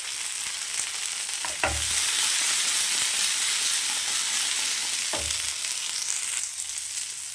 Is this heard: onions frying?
yes